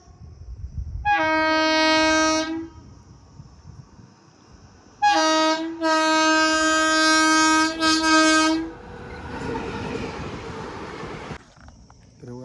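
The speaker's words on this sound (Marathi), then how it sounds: "हे बघा समोरून ट्रेन आली" A train horn blares twice in long, loud harmonic blasts, followed by the rumbling clatter of a train passing close by.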